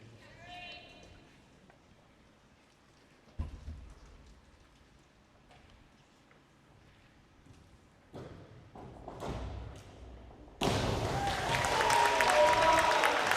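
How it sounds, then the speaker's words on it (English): Applause for a diver at a high school swim meet, a poolside crowd clapping loudly in a dense burst that swells at the end, after a stretch of quieter echoing pool-deck noise and scattered thuds. "Wheatmeyer, get a nice round of applause."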